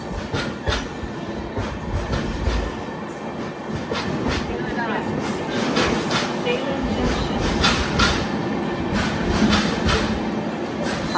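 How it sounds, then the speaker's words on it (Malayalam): A passenger train pulls in at a busy railway station platform, with loud wheel clatter, rhythmic clacks and squeals over a heavy rumble, and voices talking in the background. "അഞ്ചാം നമ്പർ പ്ലാറ്റ്ഫോമിലേക്കാണ് വണ്ടി വന്നത്"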